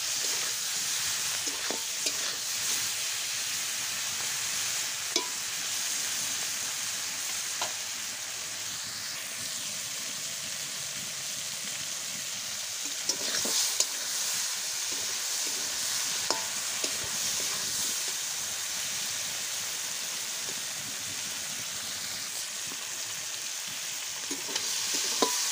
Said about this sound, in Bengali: তারপর কড়াইতে আমি চিংড়ি মাছটা দিয়ে দেব। দিয়ে হালকাভাবে ভেজে নেব।